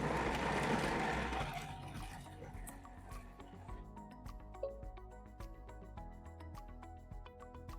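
A Thermomix chops apple chunks, a loud whirring blade burst at first that fades into rattling, clattering pieces bouncing inside the bowl.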